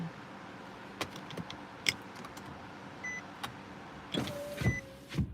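A car's power window motor whirs in short bursts inside a vehicle, with faint clicks and background road noise.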